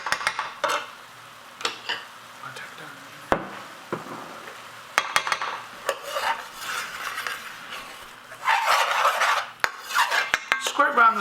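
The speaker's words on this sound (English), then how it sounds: "Scrape around the sides and then mix the scraping the bottom, mix the curry together." Spoon scraping and stirring king prawns in dhansak curry in a pan, with irregular close metallic scrapes and clinks that grow busier and louder toward the end, no talking.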